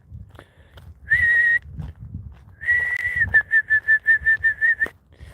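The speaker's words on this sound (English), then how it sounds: "Why am I whistling to a fucking bird like it's a bloody dog?" A person whistles to call a bird: a long sustained tone, then a second long note breaking into a quick run of about eight short rhythmic whistles, loud and close, with faint low background rumble between.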